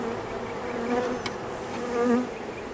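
Honeybees drone steadily from an open hive during an inspection of a queenless colony, a close, continuous buzz with a few brief pitch swells as individual bees pass near.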